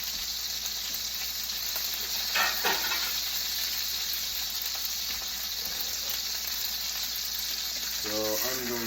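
Thin steaks sizzle steadily in a hot pan, a constant close frying hiss with a few brief louder crackles, faint talk near the end.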